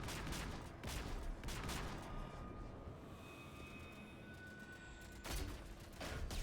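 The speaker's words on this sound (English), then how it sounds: "All units, open fire!" Heavy sustained gunfire from the Mass Effect 3 video game as units fire on a Reaper destroyer: dense, continuous bursts of shots with louder volleys near the start and end, filling the whole stretch without talk.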